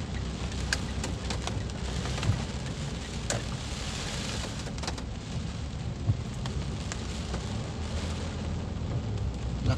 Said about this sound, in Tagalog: Lakas din talaga ng ulan dito din.